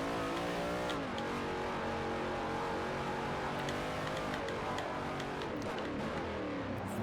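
A race car in Forza Motorsport 4's King of the Mountain event revs hard, its engine note rising and falling as the rear tyres spin and lose grip, loud and continuous without any talk.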